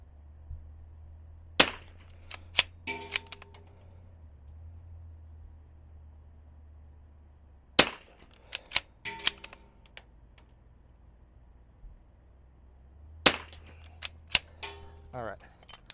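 A Zermatt Rim-X bolt-action rifle with a DPX bolt modification is cycled, rounds being chambered from a magazine: three sharp metallic clack sequences, each a quick cluster of bolt clicks, spaced apart by quiet pauses.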